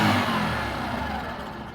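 A Bajaj Platina 110 motorcycle engine runs close by with a steady mid-pitched hum, its throb easing slightly over the short stretch.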